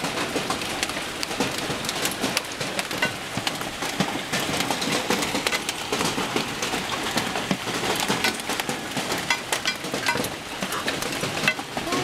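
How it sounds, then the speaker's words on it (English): Hard, dense pelting of golf-ball-size hailstones drumming steadily on surfaces in Colorado, a loud continuous clatter of many impacts throughout. "Golf ball size hail."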